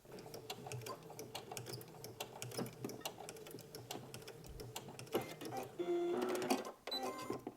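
Sewing machine back stitching a pajama seam, quiet rapid ticking stitches in a steady run with brief pauses, ending in a louder short burst of motor whir.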